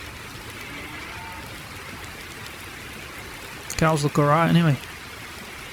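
In Farming Simulator 19, steady rain falls as an even, close hiss through the whole stretch, and someone speaks briefly over it near the end.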